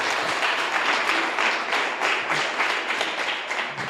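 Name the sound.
congregation applauding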